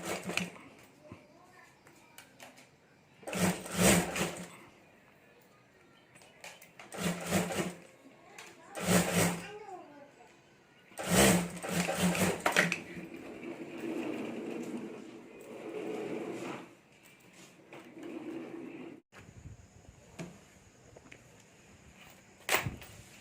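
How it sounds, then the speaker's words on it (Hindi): Sewing machine stitching a homemade clutch bag in loud bursts of rapid, rattling needle strokes, separated by pauses where fabric is handled and a person talks quietly. "तो यहाँ मैं सिलाई कर देता हूँ"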